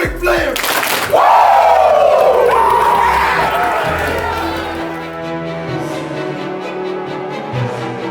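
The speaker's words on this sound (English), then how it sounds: "give me 2 claps and a Ric Flair" Stadium crowd at a Washington Commanders versus New York Giants NFL game roars with a loud collective shout and whooping cheer that swells, then slowly fades into lingering crowd noise.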